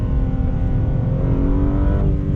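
A 2021 BMW M3 Competition brakes and downshifts, the engine a loud continuous roar that shifts pitch with a blip near the end, heard close with no talk.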